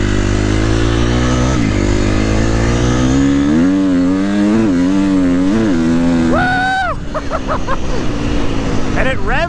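A KTM 350 XCF dirt bike engine revs hard at full throttle, climbing and surging through gears close to the listener, then drops and rises again in sharp bursts while a rider talks over it.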